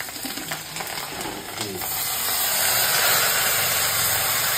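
Rice frying in a pan of hot oil with a faint rustle at first, then a loud, broad, steady sizzling hiss that builds and holds close up.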